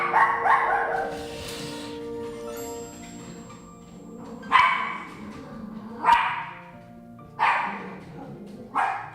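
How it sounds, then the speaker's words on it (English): Dogs bark excitedly in a series of loud, separate bursts, several sharp barks spaced a second or two apart, fairly close to the microphone. "Dogs are hyped."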